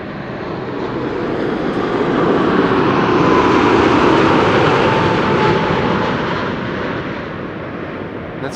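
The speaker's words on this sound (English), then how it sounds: "This is a Dreamliner returning from Cartagena" A KLM Boeing 787-10 Dreamliner arrives at Amsterdam Schiphol with a loud, broad jet roar that swells and fades as it passes overhead, sustained throughout without talking.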